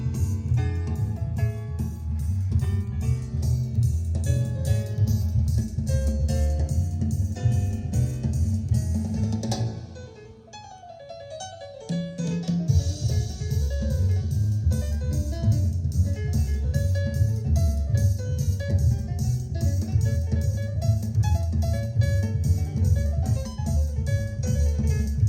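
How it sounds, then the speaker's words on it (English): Music plays through a T-52 turntable into a Japanese-made Marantz receiver and speakers, full and steady with bass and melody, briefly dipping quieter midway before resuming at the same level. "this is the sound of the turntable."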